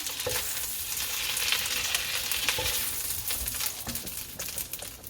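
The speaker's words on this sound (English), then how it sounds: "put them in a bowl with the sauce and mix them around" Cooked meatballs being stirred with sauce in a bowl, a continuous close wet squelching and scraping with soft clinks of a utensil, steady for a few seconds.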